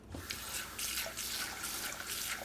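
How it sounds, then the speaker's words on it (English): Hot tap water runs steadily into a pan with a drop of soap as it is rinsed out, a continuous splashing wash with small surges, heard alone and fairly quiet. "So I put the soap in and I'm just rinsing it out with hot water."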